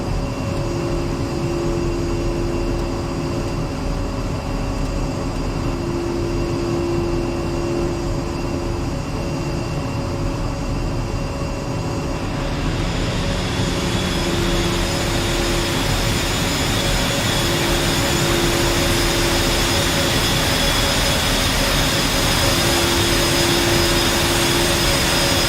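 A Su-25T attack jet's engine in the DCS World flight simulator, a steady continuous roar with high whining tones, swelling louder and brighter about halfway through as it spools up, with no talk.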